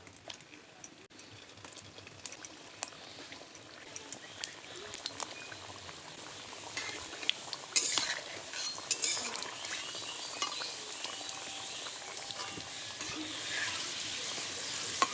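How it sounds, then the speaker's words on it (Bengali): Steady bubbling and hissing of palm-fruit gokul pitha dumplings frying in hot oil, with occasional light clinks of a utensil against the pan, continuous and close. "গোকুল পিঠেগুলো ভেজে নেব এক এক করে"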